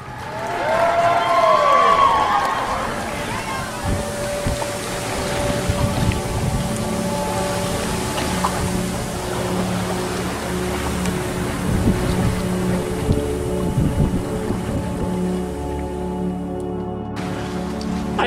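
A sailboat runs under sail with the first reef in the main and no jib, at a wind angle of about 115 degrees, giving steady wind and water rush with a low hull hum throughout and no talking.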